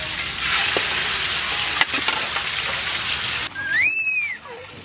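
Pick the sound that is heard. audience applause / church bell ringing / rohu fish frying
rohu fish frying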